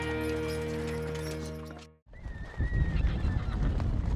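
Horses whinny amid a loud herd on a four-day, 100-mile horse and mule drive in the American West, with steady hoof and movement noise beneath; a sharp cut partway through switches to a rougher, clattering stretch.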